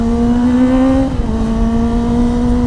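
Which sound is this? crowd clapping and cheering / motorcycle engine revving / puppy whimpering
motorcycle engine revving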